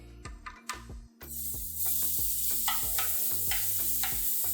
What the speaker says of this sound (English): kind of like a deep fry carnita in here